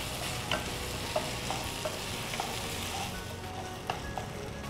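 Tomato sizzles and fries in hot oil in a pan with onion, ginger-garlic paste and green chilli, a steady close crackle with occasional soft stirring knocks and no talk.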